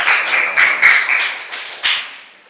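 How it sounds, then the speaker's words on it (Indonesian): Classroom audience clapping for a presenting group during a university teaching exam session, a burst of close, bright handclaps that swells, pauses, then fades out within a couple of seconds. "Kita berikan tepuk tangan yang meriah untuk kelompok."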